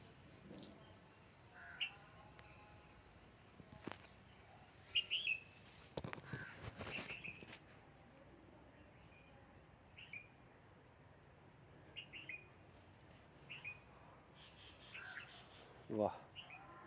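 Birds chirp outdoors under orange and mango trees, scattered short calls and tweets over a quiet background with a crow-like caw, faint and spread across the scene, with occasional soft rustles.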